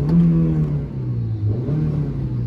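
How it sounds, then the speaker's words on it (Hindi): An old Honda Civic engine revs in neutral, its hum rising and falling with a clear tonal drone and slight clatter, close and steady with no talk. "अब आरपीएम साउंड सुनिए इसका, न्यूट्रल करता हूं।"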